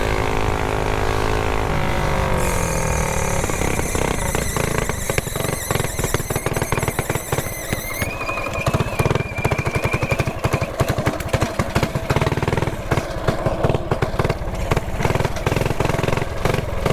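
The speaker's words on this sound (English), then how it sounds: "so I got the bike running" A mini bike engine runs with the throttle held, a loud, raspy small-engine drone that stays steady for the whole stretch, heard up close with no talk.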